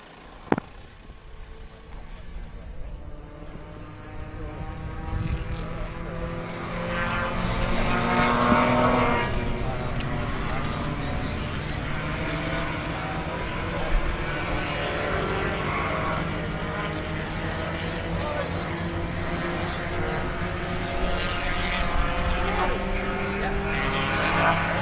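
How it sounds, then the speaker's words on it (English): Go-karts run on a race course, their engines giving a steady, droning buzz with rising and falling pitch. The sound swells midway and stays loud and continuous, with occasional sharp knocks. "And karts are on course."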